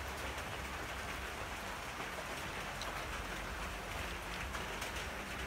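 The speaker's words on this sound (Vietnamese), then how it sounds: "Nay trời nó mưa cho nên là nó sẽ hơi ồn anh em nhé" Steady rain falling outside a motorbike workshop, a dense, even hiss of drops on surfaces that continues without a break and with no one speaking.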